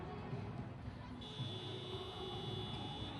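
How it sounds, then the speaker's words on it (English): A thin, steady electronic buzzer tone ends a timeout at a youth basketball game, sounding over a murmuring crowd, starting partway through and holding to the end. "And the buzzer has gone for the end of the timeout."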